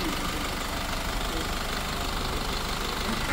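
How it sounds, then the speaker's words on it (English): A Kantanka truck's turbocharged direct-injection four-cylinder engine idles steadily, a dense, even rumble with a faint knocking texture, close and constant throughout with no speech. "Oh, wait, is this turbo? This sounds like it's turbo."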